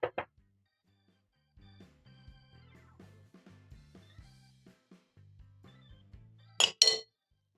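Glass bowls clink and tap as butter is scraped out of them with a utensil, giving a run of light rhythmic knocks and scrapes that ends in a couple of sharper, louder clinks.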